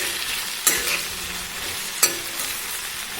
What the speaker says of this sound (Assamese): এনেদৰে লৰাই দিছোঁ